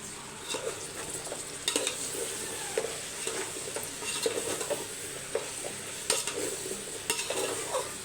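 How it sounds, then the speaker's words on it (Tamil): Green chillies, mint and dal sauté in a pan, with a utensil scraping and stirring in repeated strokes over a moderate sizzle, close and without talk. "நாலு பச்சை மிளகா இப்போ மிக்ஸ் பண்ணிக்கலாம்"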